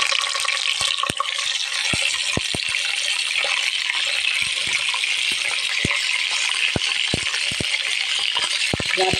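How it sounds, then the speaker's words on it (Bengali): Duck eggs frying in a pan give a constant close hiss of sizzling oil, dotted with sharp metallic clinks and taps from a utensil at irregular intervals. "দেখো বন্ধুরা, আমি ডিমগুলো ভেজে নিচ্ছি।"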